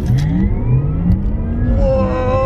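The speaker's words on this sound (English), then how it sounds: "Oh my god, the acceleration." A Porsche Taycan Turbo electric car, four-wheel drive with over 600 horsepower, accelerating hard, its motor whine climbing steadily in pitch over a dense road rumble, close and loud throughout.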